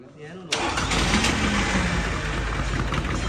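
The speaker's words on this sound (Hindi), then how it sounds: "बाकी तीन सिलेंडर इंजन है" A three-cylinder mini Sonalika tractor engine cranks and catches abruptly, then settles into a loud, rough, chugging idle close by, with a voice faintly underneath.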